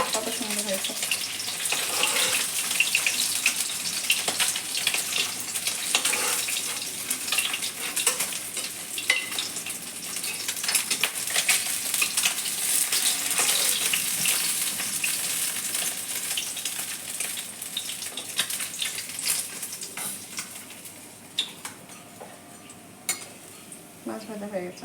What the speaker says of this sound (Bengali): আমার সুন্দর করে মাছ ভাজা হয়ে গেছে, এপিট ওপিট